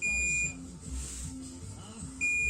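A DJI Mavic Mini 2 drone remote controller emits high-pitched electronic beeps, one at the start and another near the end, with a low hum between.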